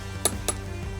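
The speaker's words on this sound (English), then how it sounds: "You hear that click? That means you're at the right torque." A torque wrench tightening a deck ledger bolt into concrete gives two sharp, close metallic clicks in quick succession over a quiet background.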